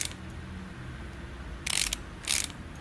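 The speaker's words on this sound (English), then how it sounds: "And let's put the bolts on." Bolts being fastened onto a car's brake caliper in the game Car Mechanic Simulator 2018: two short, bright mechanical ratcheting bursts, evenly spaced, over a quiet low hum with no talk.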